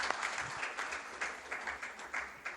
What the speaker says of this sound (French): On s'applaudit mutuellement.